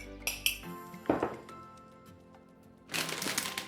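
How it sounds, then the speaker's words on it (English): A utensil stirs dry breading ingredients together in a bowl for Cheetos-coated chicken tenders, making a few sharp clinks and scrapes against the bowl, then a softer rustling mix and a final louder burst of clatter. "And stir it all together."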